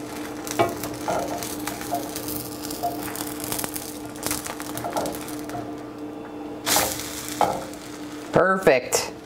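Beef fries in a pan just after being flipped, a low continuous sizzle with scraping and stirring clatters, a few sharper knocks near the end.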